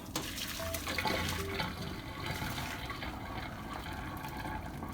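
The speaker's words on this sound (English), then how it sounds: "Alright, so we're just gonna drain this off." Hot cooking water poured off boiled saltfish into a sink, a steady rushing, splashing flow that stays even and moderately close throughout.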